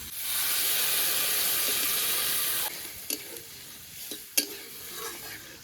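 A loud sizzling hiss as water hits a hot pan of frying yardlong beans, flat beans and potato, settling after a few seconds into quieter bubbling with a couple of clinks.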